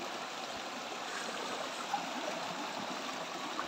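A river flows beside a farm lot, a constant close rush and hiss of water with soft gurgles and a couple of faint splashes. The sound is steady and no one speaks.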